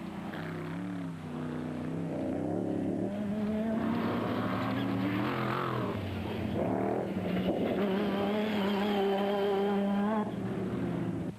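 Jimco racing powerboat with a 7-litre engine roaring loud and unbroken, its droning pitch climbing and sagging with the throttle as it runs through the water.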